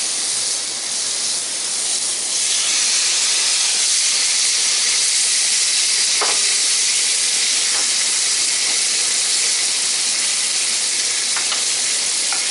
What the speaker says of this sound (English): First we're gonna start off with some bacon ends. I'm gonna fry them up nice and crispy.